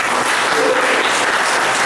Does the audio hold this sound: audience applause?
yes